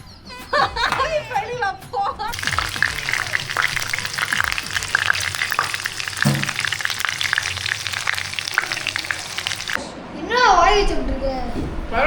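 Chicken fries in a hot pan, a steady loud sizzle and crackle filling several seconds, framed by people talking and chuckling before and after.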